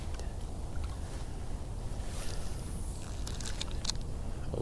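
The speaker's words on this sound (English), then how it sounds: "Oh boy, that wind." Steady, loud wind roars and buffets across an outdoor winter fishing spot on Long Island, New York, a constant rumbling rush with no pauses.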